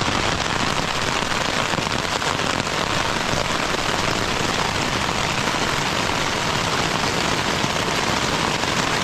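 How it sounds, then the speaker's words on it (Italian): Heavy rain pelts a tent during a two-week solo trek on the Alta Via 1 in the Valle d'Aosta mountains, a dense, loud, steady patter with no talk. "E adesso ha cominciato a piovere."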